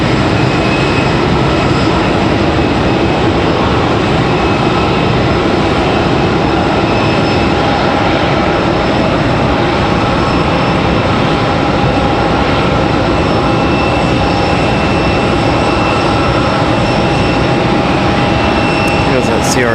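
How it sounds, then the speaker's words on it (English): JetBlue Airbus A220 jet at Raleigh-Durham airport with a loud, constant engine roar and whine throughout, heard near and steady, with a voice talking over it. "we have our A220 getting ready to head back to JFK, New York."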